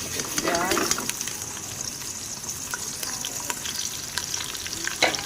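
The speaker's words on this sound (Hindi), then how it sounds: "प्याज को करेंगे लाइट ब्राउन" Onions fry in oil in a kadai for Kabuli pulao, a steady close sizzle with scattered crackles, while a voice is briefly heard near the start.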